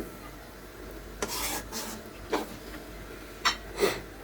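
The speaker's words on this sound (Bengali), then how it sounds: "নেড়ে চেড়ে নিচ্ছি খুব ভালো করে মশলার সাথে" A spoon scrapes and stirs olive pickle through spices in a pan, giving a few scattered, soft rasping strokes separated by quiet pauses, close by with no talk.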